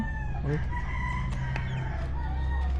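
A backyard chicken rooster crows loudly and close by, several harmonic calls over steady farmyard noise, with some softer clucking mixed in.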